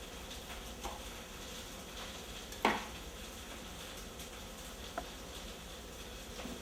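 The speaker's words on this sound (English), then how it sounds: "You hear the chicken cooking away." Parmesan chicken cutlet frying in a pan, a faint, steady low sizzle with a brief clatter of a utensil or pan partway through and a small tap later.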